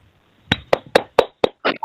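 Classroom students give a short burst of clapping, about six sharp, close hand claps in an uneven rhythm, ending in a brief smear of sound, with no other noise around it.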